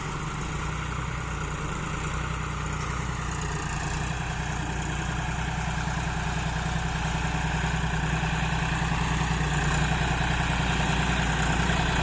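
A tractor engine idles steadily and close by in a tomato field, a constant low rumble with a throbbing beat that never changes pace.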